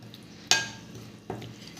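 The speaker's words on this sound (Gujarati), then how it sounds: "તો આ રવા અને દહીંને આપણે મિક્સ કરી લેશું." Semolina and yogurt being stirred together in a bowl, two sharp clinks of a spoon against the bowl a moment apart over a soft scraping background, quiet and close.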